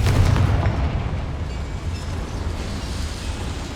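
A Confringo blasting spell goes off in the Hogwarts Legacy video game, a loud, booming burst that rolls into a sustained rumbling roar lasting several seconds.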